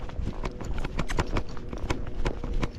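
A Rocky Mountain horse ridden in its smooth four-beat rocky gait on flat ground makes a quick, even run of hoof clip-clops, close and steady, with no talk over it.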